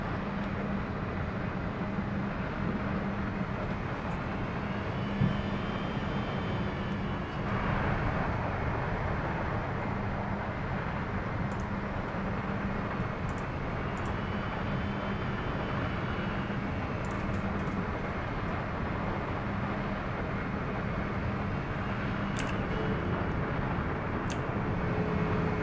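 A United E175 jet in X-Plane 11 departs at night with a steady, broad engine roar and rushing noise that holds at an even level throughout, with no voices.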